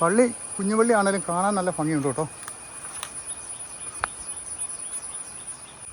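Crickets keep up a steady, shrill, unbroken trill in the background while someone speaks briefly at the start.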